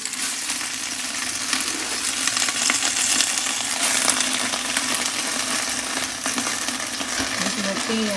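Turnip greens hitting hot oil in a thin pot, a loud, dense, continuous sizzle and crackle of frying with faint stirring, sustained throughout.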